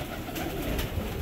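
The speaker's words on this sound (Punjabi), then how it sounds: "ਇਹ ਵੱਡਾ ਕਬੂਤਰ ਹਾਂਜੀ ਇਹ ਪੱਠੀ ਕਬੂਤਰ" A large pigeon coos softly, a brief low call half lost in a hissy, noisy background with no voices.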